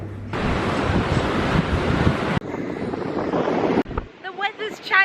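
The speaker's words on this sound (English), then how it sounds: "it's very windy now" Strong wind buffets the microphone at a seashore, a loud continuous roar with surf-like rushing that cuts off abruptly twice, followed by a quieter stretch with a voice speaking.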